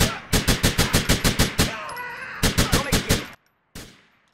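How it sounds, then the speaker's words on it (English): Rapid bursts of gunfire from GTA 4, a quick string of about a dozen evenly spaced shots, a pause, then another burst of six or so and one final shot, loud and close with no talking. "What if I just shot him from here?"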